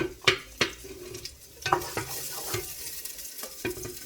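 Garlic sautéing in a pan for tinola, a gentle sizzle under repeated sharp clicks and scrapes of a utensil stirring against the pan, close and fairly quiet.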